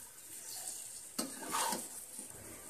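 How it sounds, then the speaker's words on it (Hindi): Beans and vegetables frying with spices in a pan, a quiet steady sizzle with a brief scrape of stirring and soft clinks partway through. "मिक्स करने के बाद हम 2 मिनट तक मसालों के साथ सब्जियों को भून लेंगे"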